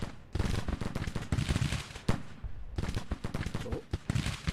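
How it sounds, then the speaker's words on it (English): Artillery and rifle fire in the Grand Tactician Civil War strategy game, dense booms and crackling volleys in rapid overlapping bursts, loud and continuous with brief lulls. "Grant also taking fire from the flank, probably from these guns from Claiborne"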